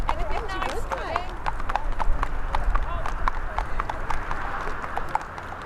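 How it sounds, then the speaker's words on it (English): Three horses clip-clop past at Birmingham Airport, hoofbeats steady and fairly close, with a brief whinny early on; someone talks over the steady clatter throughout. "we've got some 3 horses going past at the moment. Magnificent animals."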